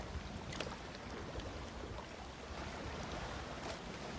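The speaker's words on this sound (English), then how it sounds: "The sounds of the water lapping along the shoreline on the island of Corfu." Gentle water lapping along a shoreline on the island of Corfu, a steady soft wash of small waves with faint splashes, close and continuous with no voices.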